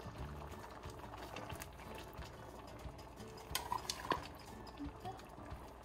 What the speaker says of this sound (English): we're also gonna add our beans finally. Scoop some of those in there